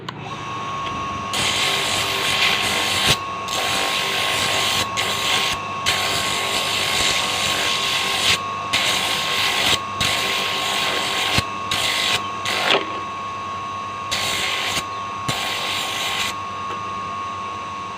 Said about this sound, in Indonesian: Bahan-bahan batok pun kita lanjut ke pengamplasan kulitnya